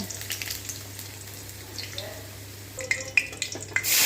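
Duck meat fries in hot oil in a pan with a steady close sizzle, a low hum running underneath, and a few sharper clinks and spatters near the end.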